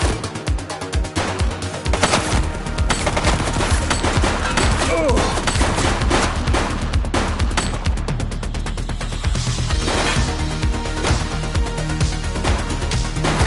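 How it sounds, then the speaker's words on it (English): Dense, continuous bursts of automatic gunfire and rapid shots fill a video game shootout in The Precinct, loud and sustained with thuds and crashes mixed in, and a voice faintly under the barrage. "He's shooting!"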